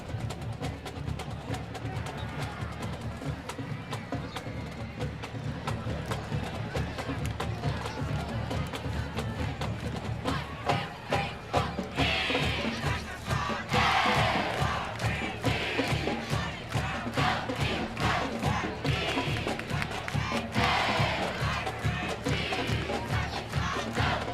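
High school football stadium crowd at Bulldog Stadium during a Georgetown Eagles versus Copperas Cove Bulldawgs game, a sustained roar of shouting and cheering with band drums pounding, swelling louder midway and staying busy throughout.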